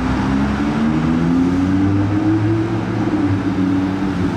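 An Aston Martin DB11 from Kuwait drones past with a loud, steady engine note that rises slowly in pitch, a continuous close rumble with no voices over it.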